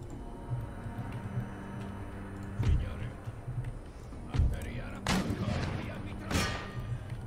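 Cannons fire canister shot in the video game Empire Total War, a few heavy booms spread across the stretch with a low battle rumble between them.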